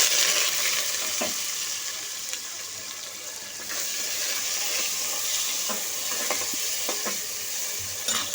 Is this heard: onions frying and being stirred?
yes